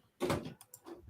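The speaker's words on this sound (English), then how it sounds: "I was asking if you open the door real quick" A door swings open with a brief knock and creak, followed by a couple of small clicks and soft rattles, close by and fairly quiet.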